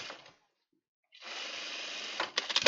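Sewing machine stitching in the ditch along a dress seam, a short burst of stitching, a pause, then a longer steady run of rapid needle strokes that ends in a few uneven clatters, close and fairly quiet.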